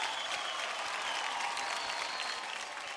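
A studio audience gives loud, continuous applause on a Marathi TV dance competition show, a dense, steady roar of clapping for the whole stretch.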